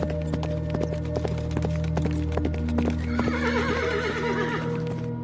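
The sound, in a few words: horse cart clip-clopping with horse neighing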